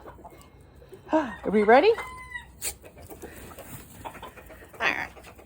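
Backyard flock with hens and a mottled Cochin rooster, giving a short burst of loud nearby clucking and calls, with a fainter call later and quiet talk in between.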